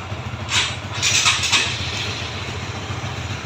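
A Honda CB motorcycle engine turns over and settles into a steady, fairly loud idle, with a few brief revving bursts near the start and a continuous low rumble throughout.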